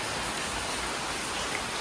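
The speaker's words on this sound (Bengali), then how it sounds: "বাইরে যা বৃষ্টি হচ্ছে" Heavy rain pours outside in an even, unbroken wash of patter, close and fairly loud with no voices over it.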